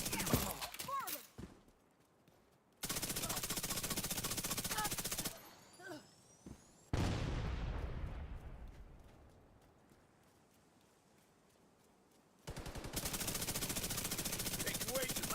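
Loud bursts of automatic gunfire in the shooter game The Division 2, several sustained volleys broken by short lulls and fainter scattered shots.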